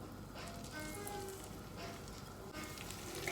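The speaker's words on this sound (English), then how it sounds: "And I get them frying." Tuna and potato fish cakes coated in panko sizzle in a frying pan with a steady, soft hiss and faint crackle, quiet and unbroken throughout.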